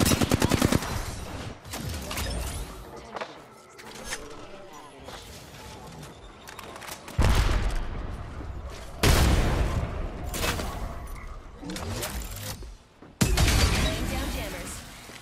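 Gunfire in a video game arrives as several loud bursts of rapid shots separated by quieter gaps, with heavy impacts and some talking between the volleys.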